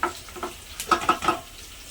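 Onions frying in a pan for a leafy-greens dish, with a steady sizzle broken by several scraping stir strokes that come in short, close bursts.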